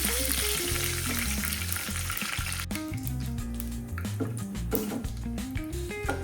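Mustard seeds crackle and curry leaves fry in hot oil in a shallow flat pan, a loud dense sizzle with rapid popping that briefly cuts out and then resumes more sparsely, no talk.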